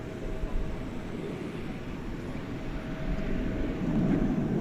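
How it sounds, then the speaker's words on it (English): A Boeing 787-9 Dreamliner taxis at DFW airport at night, heard as a distant, steady engine rumble and broad hiss that grows slightly louder toward the end. "That's a 7879 Dreamliner, which is looks like it's headed over to the"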